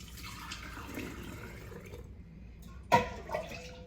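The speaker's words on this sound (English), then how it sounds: "I'm gonna now filter out all the tiny little bits of stuff" Bone broth pours and trickles quietly as it is strained into glass jars, followed by a short clink of glass and a splash near the end.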